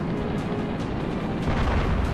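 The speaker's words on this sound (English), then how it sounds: "They have like really green explosions." Booming green explosions in a modded Halo game form a dense, loud, unbroken rumble, with deep blasts and crackling bursts layered over one another.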